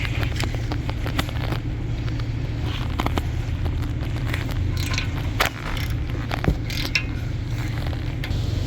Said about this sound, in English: I'm gonna use a 70mm to remove the caliper bracket bolt.